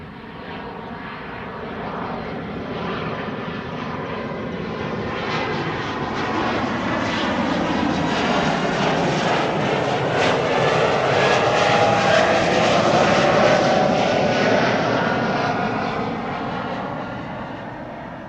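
An Airbus A350 departs runway 24 at Amsterdam Schiphol with a loud, continuous jet roar that swells as it passes and then slowly fades, with no voices over it.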